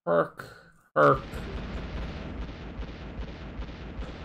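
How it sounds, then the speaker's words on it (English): Explosions in a Wild ARMs video game battle. Two short bursts of voice come first, then a deep booming blast that rumbles and fades with smaller pops. "With explosions."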